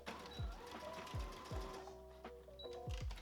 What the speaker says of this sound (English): And then just finish stitching up that little opening we had left.